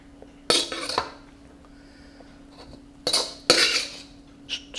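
A metal wok is picked up and set down in two bursts of clanking and rattling, with quiet gaps and a soft background hum between them.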